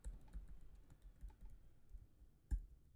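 Close, quiet computer keyboard typing of code, an irregular run of soft key taps with one sharper, louder keystroke near the end, no speech.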